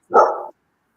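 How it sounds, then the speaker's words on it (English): A dog gives one short, loud bark close by, then silence follows. "that was Kiara's dog, Helen"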